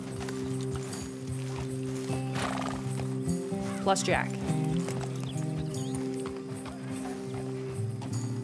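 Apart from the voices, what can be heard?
horse hooves and neigh in Red Dead Redemption 2 video game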